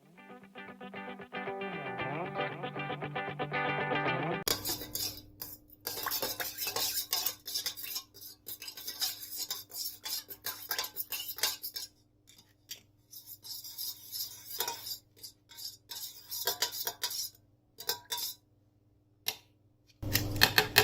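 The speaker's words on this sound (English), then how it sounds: "Guys, before adding the yeast, I am going to mix sugar in it." Metal spoon clinking and scraping against a bowl while sugar is stirred in for donut dough, after a brief pouring swish at the start, with irregular rapid clatters continuing throughout and no talking.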